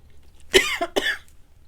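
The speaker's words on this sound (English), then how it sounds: "sorry, still got the cough a little" One person coughs twice, two short close bursts in quick succession, between pauses in talk while decorating a stack of guest checks.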